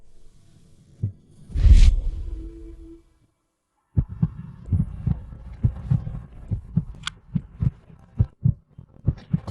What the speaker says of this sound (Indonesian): Jantung kakak deg-degan, Kak